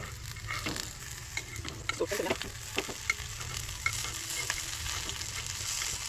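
Prawns frying in a pan, with a steady sizzle and crackle that holds throughout, overlaid by irregular stirring scrapes and light clicks from a utensil, close and moderately loud.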